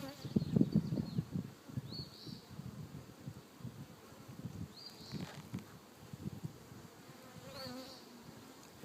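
Honeybees buzzing at an opened hive, a dense low hum with individual bees droning close past the microphone, steady and fairly quiet outdoors, with no talk.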